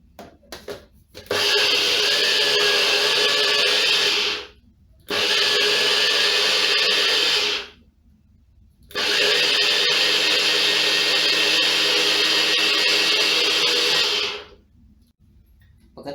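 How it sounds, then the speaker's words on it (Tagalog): A blender grinding soaked leftover rice with water whirs loudly in three bursts separated by short pauses, a coarse grinding roar that starts and stops abruptly. "Tapos tsaka po natin siya i-blender."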